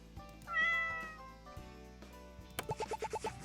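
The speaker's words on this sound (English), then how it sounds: "And this is my cat, Toasty." A cartoonish cat meows in the crime-solving video game Paper Perjury: one drawn-out meow, then a quick run of five short, evenly spaced chirpy mews over game music, with no one talking.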